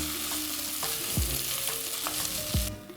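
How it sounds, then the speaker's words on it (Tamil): Fresh mint leaves sautéed and gently turned in a pan for pudina thuvayal, a soft constant sizzle broken by a few low scraping strokes of the spatula, close by and without speech. "அப்படி மெதுவாக திருப்பி விட்டு வதக்கணும்."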